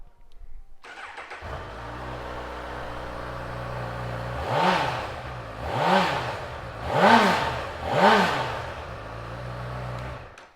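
A 2019 Honda CB1000R+ motorcycle starts with a brief crank and settles into a steady idle, then gets four even blips of the throttle spaced about a second apart, loud and close with no talking.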